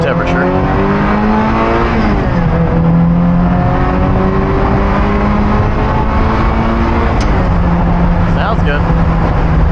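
A Ferrari 348's engine revs and accelerates loudly from inside the car, the tone climbing through gear changes with a brief dip between shifts, with someone talking over it.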